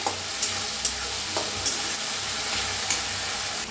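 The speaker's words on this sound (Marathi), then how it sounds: "3 टमाट्याची पेस्ट केलेली आहे, ती ओतूया। त्याला भी छान भाजून घ्यायचं।" Tomato paste frying in hot oil for dum aloo, a continuous close sizzle broken by soft periodic stirring scrapes of a spoon against the pan, no voices.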